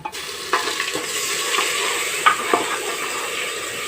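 Onion frying with ginger, garlic and fennel paste hisses steadily in a pan, with a soft sizzle running throughout and a few light scrapes and clinks of the spoon as it is stirred.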